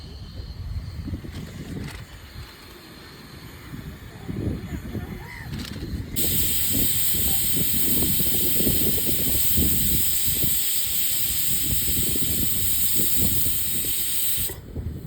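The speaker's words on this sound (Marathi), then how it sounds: "कुकर तर लागला आमचा, भात कधीही होईल" A pressure cooker cooking rice near Are-Ware beach in Kokan bursts into a loud, continuous steam hiss that runs for several seconds and then cuts off. Brief voices and shuffling come before it.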